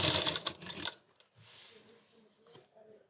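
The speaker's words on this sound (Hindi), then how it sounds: "अब यहाँ इस किनारे के ऊपर से हम सिलाई लगाएंगे" A sewing machine stitches along the edge of a kurti slit where lace is being attached, running in a loud burst for about a second, then stopping to leave quiet handling sounds and faint background noise.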